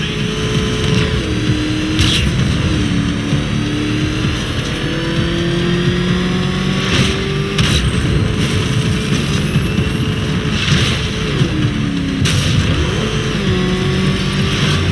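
The Batmobile's engine roars and revs steadily through a race in Batman: Arkham Knight, a loud continuous drone with pitch shifting up and down as it accelerates, plus a few sharp bursts over the top.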